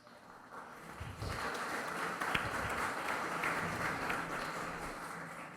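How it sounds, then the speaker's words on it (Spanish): Audience at a legal plenary session applauds a doctor's presentation, clapping swelling in after a quiet start and holding at a moderate, somewhat distant and soft level. "Nos aunamos al aplauso a la doctora Cintia Silva por su exposición"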